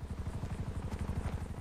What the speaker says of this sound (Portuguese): Cadê esse helicóptero?